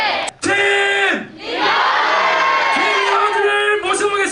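A large crowd at a film talk event in a cinema cheers and whoops loudly, with sustained yelling voices rising together, a brief dip, then the roar swelling again.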